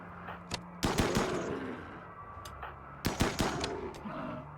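Bursts of gunfire in the video game RimWorld, two clusters of sharp, loud shots about two seconds apart over a low background hum, with no talking.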